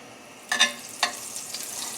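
Butter and mushrooms sizzling in a hot pan for chicken marsala: a soft, steady frying hiss, broken by a few sharper crackles and spits near the start.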